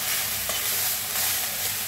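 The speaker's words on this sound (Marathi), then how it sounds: "असं मिक्स करून भाजून घ्यायचं।" Moth bean sprouts dry-roasting in a pan, a steady close crackling sizzle with scraping stir strokes throughout, no voices.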